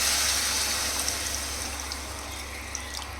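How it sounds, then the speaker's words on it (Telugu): Water pours into a pot of chicken korma with chicken pieces, a steady close splashing rush that slowly eases off toward the end. "ఇప్పుడైతే వాటర్ పోసేసుకుందాం."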